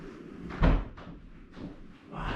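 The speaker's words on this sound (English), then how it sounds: "Just make sure you shut the door" A door is shut with one solid, close thud near the start, followed by quieter knocks and rustles of handling, with no voices heard.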